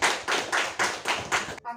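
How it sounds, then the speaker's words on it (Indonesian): Children in a classroom clap their hands together in a rhythmic pattern, about six loud, close bursts of many hands landing at once, ending abruptly with a short trailing voice. "Tepuk tangan dulu."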